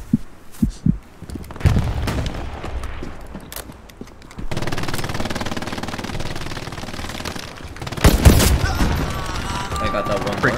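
MG 34 machine gun bursts in a World War II online shooter match, sharp rattling volleys coming in clusters with heavy sustained firing midway, mixed with other gunfire and players talking over comms.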